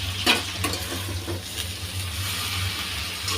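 Mixed greens being stirred and turned with potatoes frying in a pan: a steady close sizzle with a few scraping stirs, and no voices.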